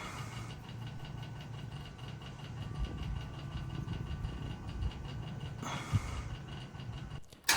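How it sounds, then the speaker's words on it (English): A Kubota tractor engine idles with a low, even rumble for several seconds, ending with a couple of clunks near the end. "Turn off the key and then start the tractor normally."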